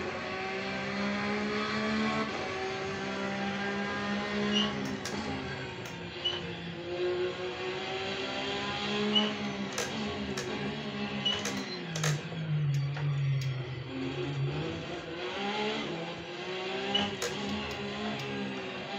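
A race car being prepared for the Trento-Bondone hill climb revs hard under throttle, its close engine note climbing and dropping in pitch through repeated gear changes, with no talking over it.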